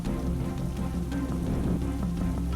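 Steady rain on a surface, a dense continuous patter that stays even and fairly loud throughout, with no voices over it.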